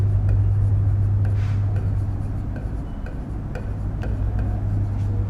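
Chalk or marker scratches and taps steadily across a board in a chemistry class, with short irregular strokes over a low constant hum.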